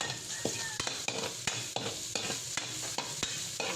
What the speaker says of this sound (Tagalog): nagisa na natin ang ating bawang. Sunod ang sibuyas.